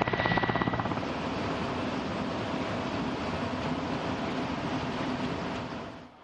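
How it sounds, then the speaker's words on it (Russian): A military transport-attack helicopter flies at very low altitude over the Donbas steppe, giving a loud, steady rotor and engine roar that stays constant throughout and fades slightly at the end. "Вертолет летит на предельно низкой высоте, может быть, на высоте всего нескольких десятков метров."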